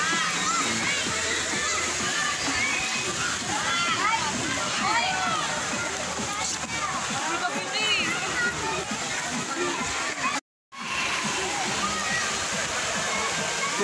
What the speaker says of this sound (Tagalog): Ayun o, daming naliligo.